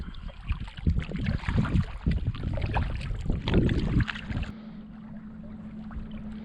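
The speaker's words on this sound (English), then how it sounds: "you can also tell the wind is coming up and it's blowing right this way" Wind blowing across Lake Umbagog in northern New Hampshire, a loud, steady rushing roar with gusty buffeting against the microphone that drops to a quieter hum near the end, with no talk.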